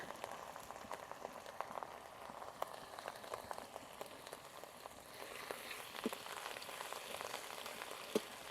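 Ginger, garlic and green chili paste frying in oil in a pan for a Bengali katla fish rezala, a faint steady crackling sizzle with light pops and occasional spatters, low and continuous, with no talking.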